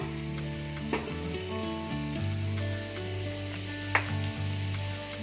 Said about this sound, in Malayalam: ഇനി നമ്മൾ സ്റ്റൗ കത്തിച്ച് ഒരു പാൻ ചൂടാക്കി വെച്ചിട്ടുണ്ട് ഇതിലേക്ക് ഒരു ടീസ്പൂൺ ബട്ടർ ചേർത്ത് കൊടുക്കാം